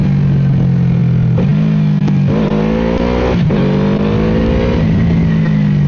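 A QJMotor SRV 600V V-twin motorcycle engine runs loud and close while riding, its pitch climbing through several throttle rises with brief dips between gears.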